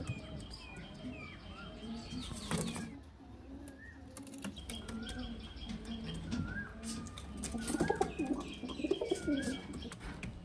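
Kalshira Madrasi Kalduma highflyer pigeons coo in a loft, with soft warbling calls and a few wingbeats spread through the stretch, close and moderately loud over a busy background.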